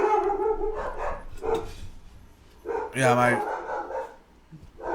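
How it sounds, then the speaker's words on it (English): Dogs barking in the background behind loud overlapping men's conversation, a few sharp barks cutting through the talk, with one bark standing out clearly near the middle. "We got the dogs barking in the background"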